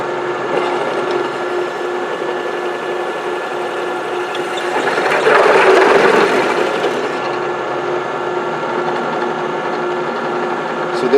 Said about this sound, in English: I've chucked this bit up in a variable speed drill press. I have it at about 700 RPM because it's a fairly large bit.